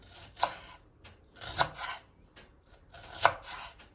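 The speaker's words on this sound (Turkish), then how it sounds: "Soğanlarımızı doğrayacağız." Three sharp knife chops through onions on a cutting board, evenly spaced and fairly close, with quiet rustling between them.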